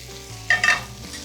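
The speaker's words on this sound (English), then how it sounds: "I'm gonna start to put the bok choy in the pan." Bok choy dropped into a pan of hot bacon fat gives a brief burst of sizzling and stirring, loud for a moment, then settling back to a low background hum.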